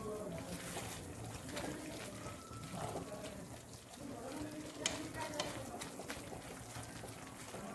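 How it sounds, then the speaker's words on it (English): A spoon stirs and scrapes orange-coloured chum chum filling around a pan in a steady, close, continuous stirring with soft wet mixing sounds. "mix this properly"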